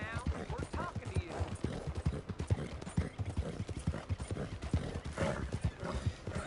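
Horse hooves clip-clop in Red Dead Redemption with a steady, close trotting rhythm, joined by an occasional whinny and voices talking underneath.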